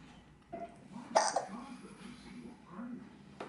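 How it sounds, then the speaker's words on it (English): A baby hiccups once, sharply and close, among a few softer vocal sounds and quiet household background noise. "You got hiccups as well though, that's a problem."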